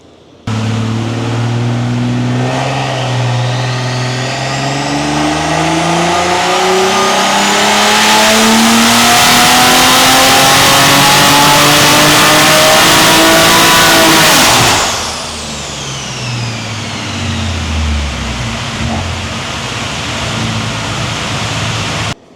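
A BMW X3 M Competition roars through a full-power dyno pull, the engine note climbing steadily and very loud for about fifteen seconds before dropping away as it slows and winds down.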